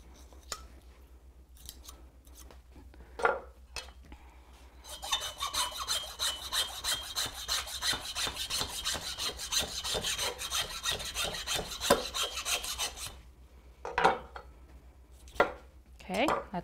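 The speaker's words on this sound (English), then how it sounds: "There's more tendons holding it together, so I tend to use a saw for that, but I still use my knife to make that initial cut." A hand saw works through a pig's back leg at the trotter, with a dense, fast run of rasping strokes in the middle, framed by sparser scraping and knife sounds before and after, close and fairly quiet.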